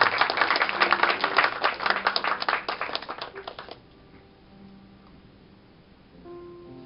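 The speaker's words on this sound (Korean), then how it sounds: "박수를 좀 부탁드릴게요" A live audience claps in a dense burst of applause for about four seconds, then it stops abruptly, leaving faint room noise.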